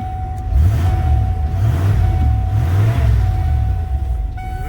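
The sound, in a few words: 1992 Ford F150 302 V8 engine with straight pipe exhaust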